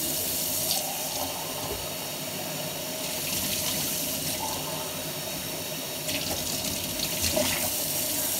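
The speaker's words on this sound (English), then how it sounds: "fill it up with a little bit of water." A faucet runs steadily into a baby bottle, a continuous rushing trickle up close with small shifts in tone as it fills.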